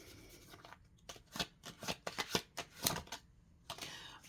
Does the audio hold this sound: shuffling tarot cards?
yes